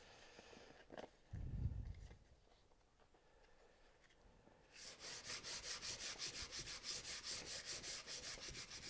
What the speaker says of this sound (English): So now it's just add a piece of sandpaper there.